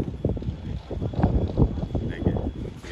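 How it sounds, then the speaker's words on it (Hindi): Strong wind blows steadily into the microphone during kite flying outdoors, a continuous rumbling gusty roar with rustling bursts and some background voices. "बहुत तेज हवा चल रही है, काफी तेज हवा चल रही है।"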